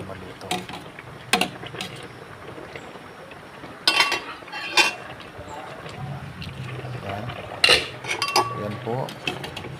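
Saluyot and string beans stirred in a cooking pot, with repeated clattering scrapes and clinks of a utensil on the metal, irregular and fairly close, amid steady background noise and some voices.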